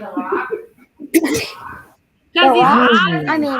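A single sharp sneeze bursts out at close range between stretches of casual talk, followed by more speech.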